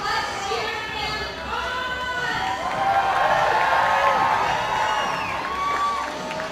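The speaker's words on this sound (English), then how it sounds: "Crowd is getting behind Carlo here at the Circuit Bouldering Gym." Crowd at a bouldering competition in a climbing gym cheering and shouting encouragement for a climber's final attempt, a loud sustained roar with whoops that swells midway, mixed with voices.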